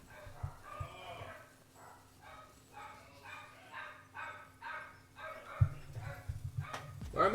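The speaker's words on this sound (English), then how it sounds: "Why are my dogs barking?" Several dogs bark faintly in the distance in a quick repeating string of yaps, with a low household hum underneath.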